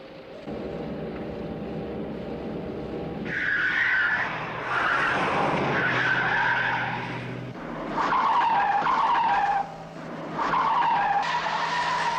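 Car tires skid and squeal loudly during a chase, with long sustained screeches rising and falling across the whole stretch, no voices.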